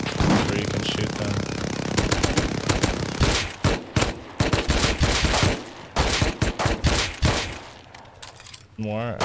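Gunfire in the video game Rust comes in rapid repeated bursts of sharp, loud cracks, rattling like automatic fire with short pauses between volleys, over a steady background of game noise.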